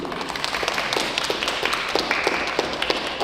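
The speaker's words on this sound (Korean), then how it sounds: "박수로 의결을 했으면 좋겠습니다" Meeting attendees at an annual general assembly clap together to approve a motion, a dense steady patter of many hands filling the room, with no talk over it.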